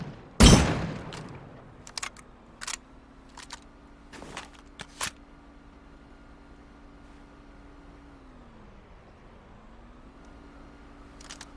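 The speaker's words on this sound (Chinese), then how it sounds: "我们来开个枪，引起一点混乱。" Gunfire in the video game Rust: one loud, sharp shot near the start, followed by several fainter, scattered shots over a low, steady background hum.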